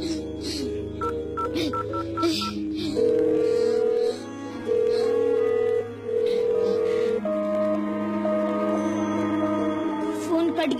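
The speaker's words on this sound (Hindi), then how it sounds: "फोन कट गया शारदा जी।" A sequence of telephone keypad beeps and call tones, bright steady pitches in several long bursts, with brief speech-like bits in between.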